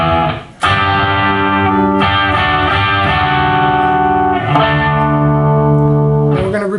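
Electric guitar riff played through effects with light distortion and reverb, using a pinky hammer-on and pull-off from G up to D; sustained ringing chords with a few clear note changes, loud and close, no talking.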